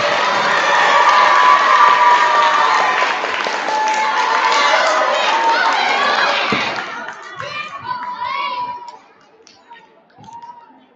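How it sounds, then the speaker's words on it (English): Audience at an elementary school spelling bee clapping and cheering loudly for several seconds, with children's shouts mixed in, then fading into scattered voices and quieter chatter. "ladies and gentlemen, you may give them a round of applause"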